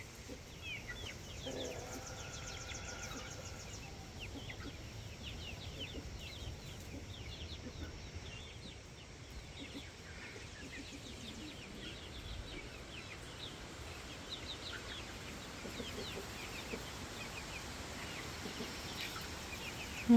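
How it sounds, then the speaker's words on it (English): A rooster among his hens in a backyard flock gives low clucks and small chirps, mostly distant and steady over ambient outdoor noise, with a short louder knock at the very end. "Oh, there's that rooster and his hens."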